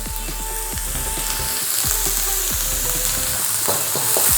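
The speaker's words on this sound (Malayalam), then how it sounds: "സ്ലോ ഫയറിൽ സബോള നല്ലപോലെ സോട്ട് ചെയ്യാൻ വേണ്ടി സമ്മതിക്കുക" Sliced onion sautés slowly in oil with salt for chana masala, giving a continuous close sizzle and crackle of frying with occasional stirring sounds and no talking.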